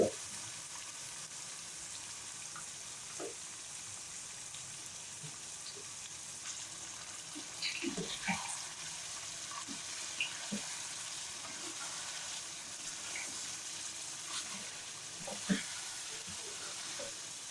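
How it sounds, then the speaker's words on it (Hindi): Beef liver frying with garlic and ginger in a pan, a soft continuous sizzle with occasional small clinks and stirring scrapes, fairly quiet throughout. "फिर जब भून जाए तो मैं आंच मीडियम कर दूंगी इसकी। और मैं कलेजी डाल रही हूँ।"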